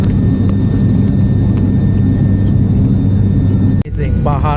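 Airplane landing in Bhutan, heard from inside the cabin as a loud, steady engine drone that fills the clip, with a brief dip near the end and faint voices briefly at the close.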